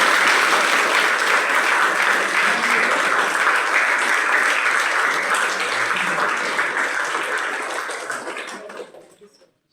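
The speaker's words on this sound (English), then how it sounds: "At least a big round of applause." An audience at a college orientation program gives a big round of loud, sustained applause that holds steady, then fades out over the last couple of seconds.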